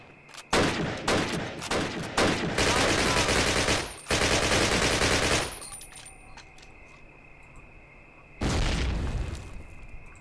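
Automatic gunfire in the Call of Duty: United Offensive video game, loud repeated bursts and sustained volleys of shots with a gap of quieter ambience before another burst near the end.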